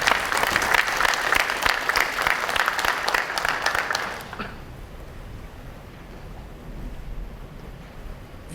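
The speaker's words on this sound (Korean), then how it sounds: "박수로 환영해 주시기 바랍니다" Audience applause welcomes the president of a newspaper to the podium at the opening ceremony of the 2023 World Securities Forum. The crowd claps loudly and densely for about four seconds, then stops abruptly, leaving quiet room tone.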